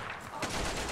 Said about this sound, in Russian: Так, еще один пулемет.